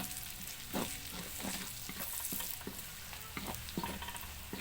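Onion and garlic sizzling in a pan for ginataang santol, with a steady soft frying hiss and repeated scraping stirs of a utensil at an irregular rhythm, fairly quiet and close.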